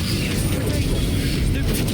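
An Incendio fire spell is cast in the Hogwarts Legacy game amid combat, a loud, dense rumble of booming, crackling bursts that continues through the whole moment.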